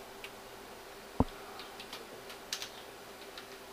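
Soft clicking of a computer keyboard as a folder name is typed, a few light, irregular keystrokes with one sharper tap, faint and close in a quiet room without speech.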